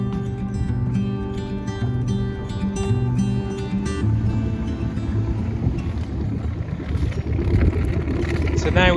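The inboard engine of a Freeman 23 river cruiser idles steadily after starting, a close, continuous low mechanical drone with a faint rhythmic knock that roughens and grows louder toward the end.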